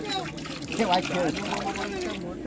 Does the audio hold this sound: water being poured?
yes